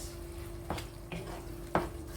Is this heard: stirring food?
yes